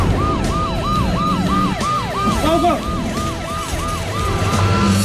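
A loud ambulance siren wails in a repeating rising-and-falling cycle, close by, with traffic rumbling underneath.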